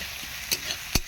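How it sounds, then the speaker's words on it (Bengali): Onion and capsicum, already softened, frying in a pan with a steady close sizzle and a couple of sharp stirring scrapes, no voices. "পেঁয়াজ আর ক্যাপসিকামটা এই অবস্থায় দেখতে পাচ্ছেন ভাজা হয়ে গেছে অনেকখানি।"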